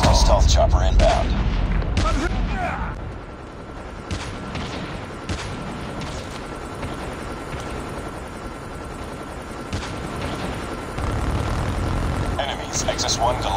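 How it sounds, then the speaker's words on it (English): A stealth helicopter in a Call of Duty game drones beneath scattered bursts of gunfire and brief voices, the rotor hum steady while the shots crack intermittently. "Hostile stealth chopper inbound."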